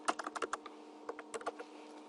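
Close, crisp keystrokes on a computer keyboard come in two quick bursts separated by a short pause, with a faint steady hum underneath and no talking.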